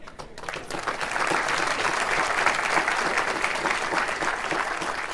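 Audience applause at a Vegas Golden Knights and North Las Vegas community partners announcement: a broad, sustained wash of many hands clapping, swelling after a brief start and holding evenly to the end.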